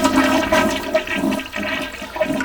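A household toilet flushing indoors, a loud close gush and swirl of water lasting a couple of seconds, heard alone without talk.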